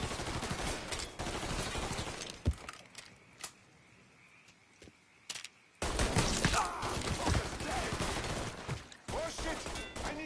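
Gunfire in Mafia III crackles in heavy, overlapping bursts of rapid shots, breaks into a quieter stretch with a few isolated cracks, then returns as a loud, sustained barrage.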